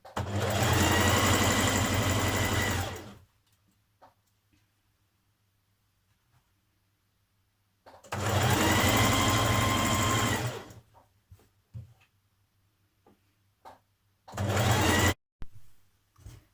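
A sewing machine stitches the back seam of a New Look 6086 top in three separate runs, two long and one short, with quiet pauses and faint handling sounds between.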